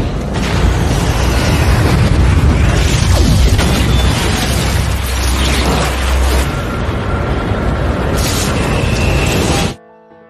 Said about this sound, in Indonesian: Tiba-tiba ledakan besar pun terjadi.